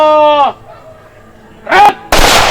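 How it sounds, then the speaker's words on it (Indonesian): At a military funeral, a shouted command rings out, then after a pause a rifle volley salute fires as one sharp, loud crack near the end. "Kepada jenazah almarhum Sersan 1 Purnawirawan Johannes Sampe, hormat senjata"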